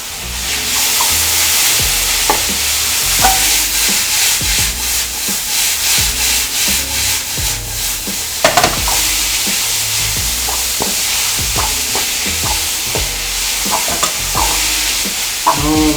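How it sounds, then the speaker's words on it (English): Mi Goreng instant noodles frying in a pan with garlic and sauce, a loud continuous sizzle broken by frequent scraping, stirring strokes and clacks of the spatula, with no one talking. "Let it fry the noodle"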